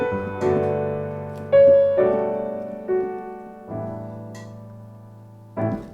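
Solo piano plays the same bar reharmonized in a jazz style, with a series of rich sustained chords and a few added single notes, each ringing out and fading, close and clean.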